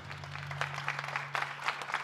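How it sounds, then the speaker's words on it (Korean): Audience applause at a PBA Team League billiards finals award ceremony, a steady wash of clapping under a low hum, with no clear voices. "박수를 보내주십시오"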